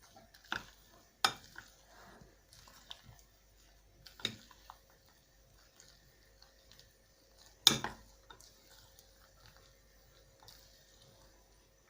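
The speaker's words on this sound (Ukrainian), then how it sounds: "Просто ложкою його перемішаю." A spoon scrapes and clinks against a bowl a few times while mixing a grated hard cheese filling, with soft sporadic taps and quiet stirring between them, close up.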